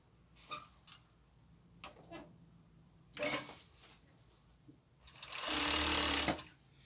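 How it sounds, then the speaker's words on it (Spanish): A sewing machine stitches the armholes of a crop top: a few faint ticks and clicks, then one steady burst of close, loud machine stitching near the end. "Vamos a comenzar cosiendo desde las partes de las sisas."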